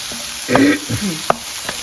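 Mushrooms and peas cooking in a pan for an Indian matar-mushroom malai curry with a little turmeric; a soft steady sizzle with a few brief stirring scrapes and one sharp clack of a utensil, no talking.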